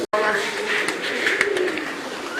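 Foreign-breed pigeons, including black and blue-bar birds, coo softly in a loft, their low murmuring calls close by and mixed with people talking.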